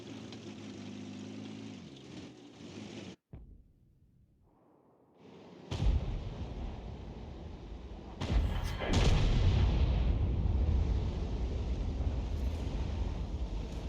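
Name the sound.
artillery shell fired by Conqueror Gun Carriage, video game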